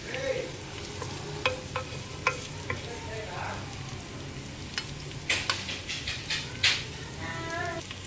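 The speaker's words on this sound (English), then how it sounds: "I've just thrown in the garlic, the fennel seeds and the cumin. So let it sit in the oil for a while" Garlic, fennel seeds and cumin sizzle in hot oil with a steady crackling hiss, with occasional sharp pops and utensil clinks near the pan.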